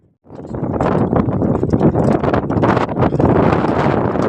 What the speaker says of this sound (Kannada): ಇಲ್ಲಿ ಸಿಕ್ಕಾಪಟ್ಟೆ ಗಾಳಿ ಇದೆ.